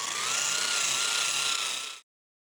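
A small angle grinder works the roof panel of a classic Camaro, a loud, steady high whine that runs for about two seconds and then cuts off abruptly.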